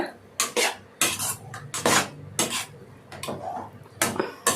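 Cooked vermicelli upma being mixed in a pan, with a spoon scraping and clinking against the metal in a steady run of close, fairly loud strokes and short pauses between them.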